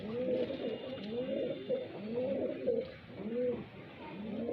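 Highflyer pigeons in Bareilly coo steadily in a rhythmic series of rolling, repeated calls, close and clear, with little talk around them.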